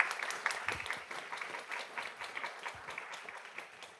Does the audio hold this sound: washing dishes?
no